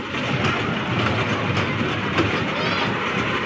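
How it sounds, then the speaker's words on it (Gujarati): A children's toy train ride at the Jakpir fair rumbles past close and loud, with a continuous clattering of wheels and a dense, steady background. "આ રેલગાડી છે"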